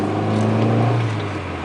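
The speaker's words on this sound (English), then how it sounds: "Driving the car" A 1981 Honda Accord being driven, a steady close engine drone with a strong low hum and a smooth constant tone throughout.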